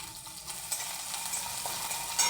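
Tomato and curry leaves hit a hot pan in a home kitchen, crackling and sizzling steadily up close, with faint stirring scrapes and no voices.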